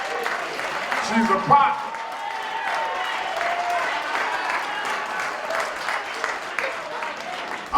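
Audience at a church gathering applauds, a steady round of clapping lasting several seconds while a speaker's voice carries over it.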